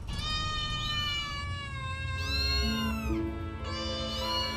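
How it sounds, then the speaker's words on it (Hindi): Several cartoon cats meowing loudly during an animated attack scene, overlapping drawn-out yowls and meows in a continuous chorus. "Cats attack!"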